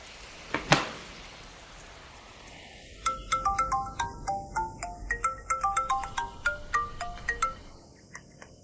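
A phone's ringback tone repeats in a steady pattern of short electronic beeps during an outgoing call, heard clearly after a brief soft knock, with no talking over it.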